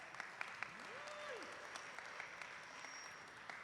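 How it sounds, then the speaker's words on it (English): A community meeting audience gives a soft, distant round of applause for a student steel band, the clapping thin and steady, with a brief tonal whistle-like sweep early on. "Let's give them a round of applause."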